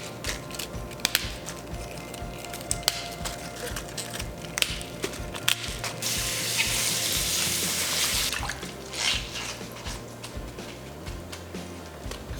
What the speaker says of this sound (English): we're gonna give it a really good wash to remove all the excess dirt